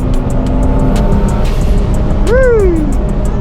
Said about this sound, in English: I love how the turbo sounds against the wall on the freeway.